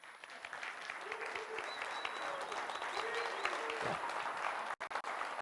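Audience applause fills a conference hall, a dense steady clatter of many hands clapping throughout, with faint voices and a brief whistle-like tone over it before it cuts off near the end.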